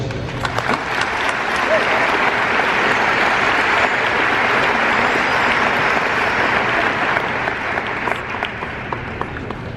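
An audience at a Ball State University College of Health commencement applauds steadily to welcome speaker Dr. Dennis Morrison, a broad, even wash of clapping that holds for about ten seconds without talk.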